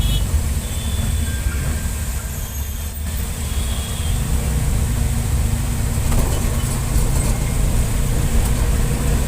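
A load auto rolls along a wide road and slows for a U-turn, giving a loud, steady engine drone and road rumble throughout with no talk.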